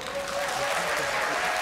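An audience in an opera house applauds in a steady, dense wash of clapping that holds evenly through the short moment.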